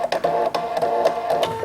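A sewing machine stitches through three layers of cotton napkin fabric, giving a steady, close, mechanical whir with rapid regular needle clatter throughout.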